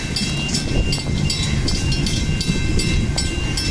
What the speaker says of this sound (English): Here's the freight train still going through the crossing.